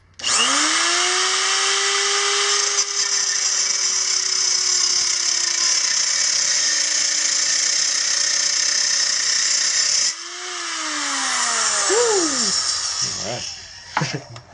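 A power cutting tool slices through a Sur Ron Light Bee handlebar with a loud, sustained high whine, then briefly drops off and spins back up before the pitch sinks and winds down as the cut finishes.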